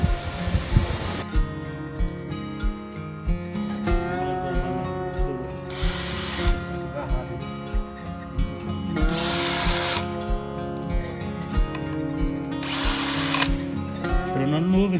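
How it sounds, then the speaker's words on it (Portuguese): A power tool, an angle grinder, runs on a V8 engine that won't turn over, with a whining, buzzing motor tone and repeated bursts of harsh, hissy cutting or grinding, close and loud throughout. "Passa a lixadeira aí pra você ver se não tira"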